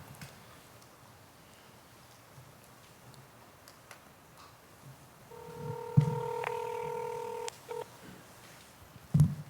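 Faint background hiss, then a few keypad tones followed by a repeating electronic ringing tone over a phone line on speakerphone, with a couple of sharp clicks.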